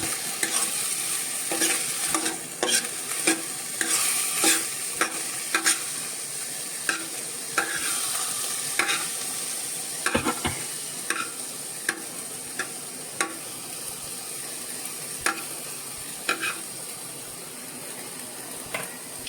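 Green beans and onion steaming in a pan for a milk-based vegetable dish, a constant soft sizzle broken by frequent scraping stirs of a spatula, close and fairly quiet.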